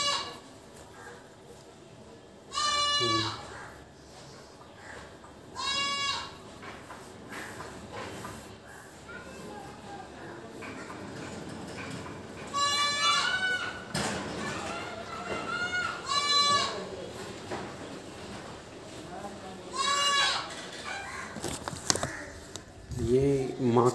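A goat bleats repeatedly in loud, wavering bursts spaced several seconds apart, with chickens clucking and someone talking in the background.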